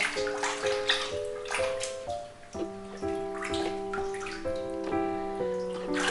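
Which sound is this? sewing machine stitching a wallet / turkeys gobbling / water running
water running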